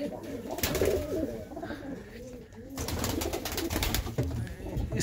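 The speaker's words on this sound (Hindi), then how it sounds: "इस परिंदे का शौक करें, क्या स्ट्रक्चर है परिंदे का, और प्योर हालत में कबूतर" Pigeons coo steadily in a high-flyer loft, their low throaty calls repeating close by while someone talks over them.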